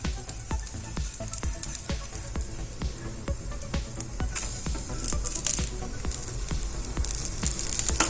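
A Maggi noodle omelette roasts in a pan over a low flame, giving a steady soft sizzle and crackle with scattered pops throughout.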